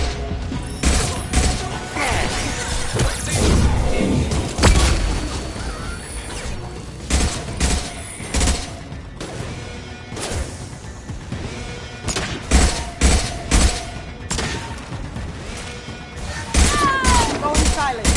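Heavy gunfire in the video game Mass Effect: dense, loud bursts of automatic weapons fire with booms and impacts, continuing in waves throughout, with occasional speech between shots.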